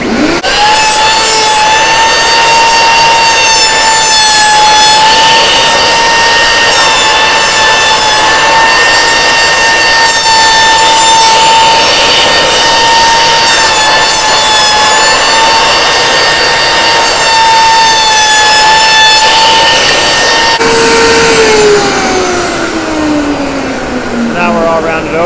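Power saw cutting a piece of wood for a frame, a loud, steady high whine held under load for about twenty seconds before the blade spins down and the pitch falls.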